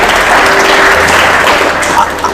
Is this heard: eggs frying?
no